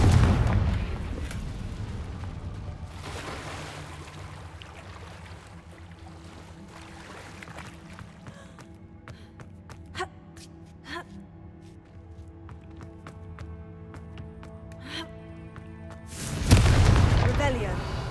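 In the Hogwarts Legacy video game, a Confringo fire spell bursts with a heavy boom at the start and another near the end, with quieter game sounds, clinks and speech in between.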